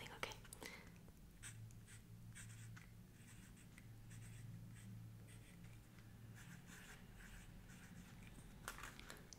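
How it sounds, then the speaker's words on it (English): Pen scratching across a card during a horror board game unboxing, soft intermittent strokes close to the mic, with quiet whispered talk underneath. "I'm gonna write something, okay."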